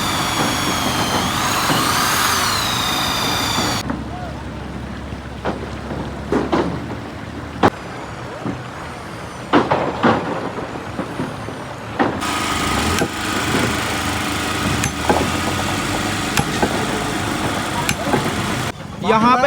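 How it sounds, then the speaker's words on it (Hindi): A tractor hauling a load of stones runs its engine with a rough, rumbling drone that rises and falls across the scene, outdoors in a village, with people talking over the noise. "पूरा पत्थर लेके आ रहा है ट्रैक्टर से"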